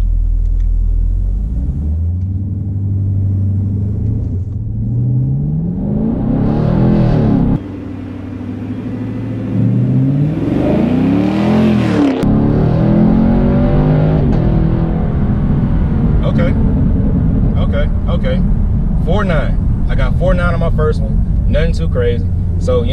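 A 2019 Camaro SS V8 rumbles at idle, then revs up in rising sweeps during a 0-60 acceleration run, loud and close inside the car, with someone talking over the engine.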